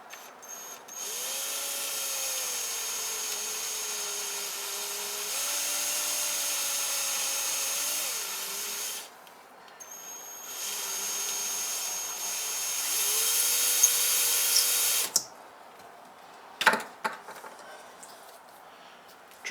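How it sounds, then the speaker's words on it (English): Power drill boring a hole in a metal bottle cap stamping tool, a whining motor in several bursts of a few seconds each, with pauses and clatter between runs. "Drill a hole as centrally as you can."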